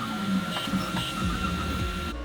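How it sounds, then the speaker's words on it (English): A 3D printer in a makerspace hums steadily through a print, its stepper motors whining in shifting pitched tones and short sweeps, close and moderately loud. "it's okay to leave the printer alone to finish its print"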